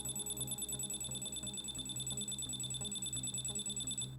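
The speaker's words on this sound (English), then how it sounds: "the G chain will start making a noise after you name it, so you should hear this noise." A GateKeeper Bluetooth key fob sounds its pairing alert: a rapid, repeating electronic beeping pattern, high and piercing, pulsing steadily for several seconds at close range before cutting off.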